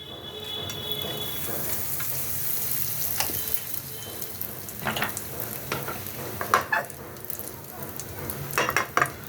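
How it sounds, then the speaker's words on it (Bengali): Pea pod paste fries with hing in hot oil in a wok, giving a faint, steady sizzle with scattered sharp scrapes and clinks of stirring. "এখন কড়াইতে তেলটা গরম হয়ে গেলে আমি একটু হিং দিয়ে দেবো, দিয়ে এই বাটাটা কষিয়ে নেব"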